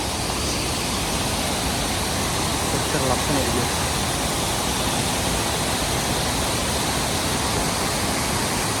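Bomburu Ella waterfall in Sri Lanka, swollen by heavy rain, fills the clip with a dense, unbroken roar of falling water while a voice speaks briefly over it.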